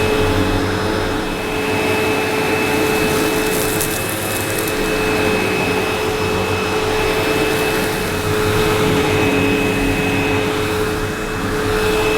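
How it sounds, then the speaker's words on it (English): A Hoover Super Sprint 1200 cylinder vacuum cleaner runs continuously, a loud, steady motor whine with a broad airy rush and faint sucking fluctuations as it picks up small debris, with no voices. "I'll scoop up the worst and use something to vacuum up all the small bits"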